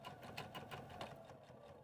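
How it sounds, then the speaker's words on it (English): A sewing machine stitching the base of a bag onto its front lining piece, running in a continuous fast rhythmic chatter of needle strokes, quiet and steady, with no voices. "So now we're going to go stitch our base to our front lining piece."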